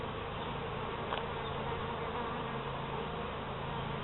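Honey bees buzz continuously around an open hive during an inspection, a dense, even drone close to the microphone with one brief louder pass.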